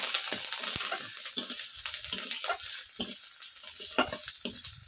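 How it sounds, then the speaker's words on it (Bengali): A mix of coriander and cumin powder with salt is stirred in a pan while it fries, giving soft scraping strokes over a gentle steady sizzle, close up with no voices. "ধনে আর জিরের গুঁড়ো, নুন, দিয়ে মশলাটাকে সুন্দর করে নেড়ে চেড়ে নেব।"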